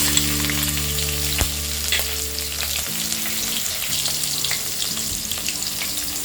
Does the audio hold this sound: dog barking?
no